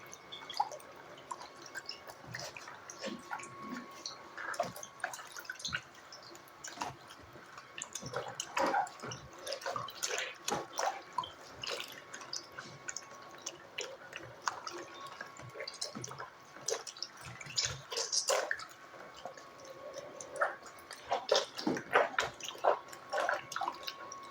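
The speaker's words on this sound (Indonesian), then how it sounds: "Nah, jika sudah direndam seperti tadi, selanjutnya akan kita kocok ya." Helmet inner foam crown pads soaked in water being shaken and squeezed in a basin, giving irregular splashing, dripping and sloshing bursts throughout, fairly close with no voices.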